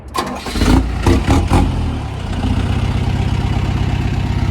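An Otokar M2000 Sport bus's large diesel engine cranks and catches, then settles into a steady, deep rumbling idle close by.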